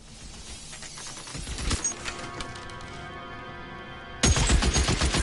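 Gunfire in the video game L.A. Noire comes as rapid bursts of shots with sharp cracks, a dense volley early on and a louder burst near the end over a low game backdrop.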